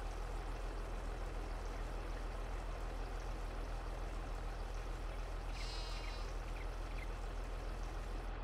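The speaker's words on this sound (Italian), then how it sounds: "Versiamo l'acqua." Water pours in the Farming Simulator 22 video game on an Italian farm map with sheep and goats, making a steady, even rushing hiss throughout with a brief chirp partway through.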